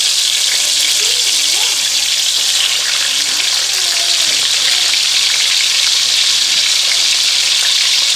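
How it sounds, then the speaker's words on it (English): Bacon sizzles and crackles in very hot grease, a loud, dense, continuous frying hiss close by, with faint voices murmuring underneath. "that's going to cook up fairly quickly because the grease is so hot"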